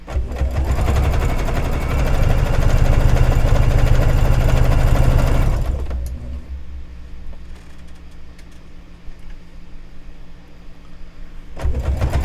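A sewing machine runs at a steady fast stitch while tacking binding onto a quilt, loud and close for about six seconds, then stops and leaves a quiet hum until it starts again briefly at the end.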